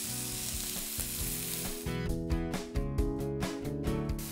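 Chopped onion and carrot sizzle loudly and steadily in a hot frying pan while a vegetable tortilla is prepared, with a continuous close crackle running under background music.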